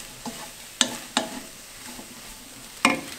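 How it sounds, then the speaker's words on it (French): Bell peppers gently brown in a pan for Tunisian chakchouka, with a soft background sizzle broken by a few sharp scraping strokes of stirring. "Je vais légèrement faire dorer les poivrons."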